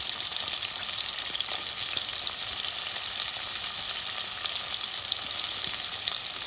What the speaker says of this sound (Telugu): ఉల్లిపాయలు, పచ్చిమిరకాయలు వేసుకోవాలండి. ఇప్పుడు ఇవి బాగా వేగాలండి.